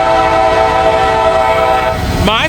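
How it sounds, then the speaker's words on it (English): A coal train passes in Wyoming, loud and close: a dense rail roar with a sustained tonal horn-like drone that shifts near the end. "Yep, looks like we got a coal train here"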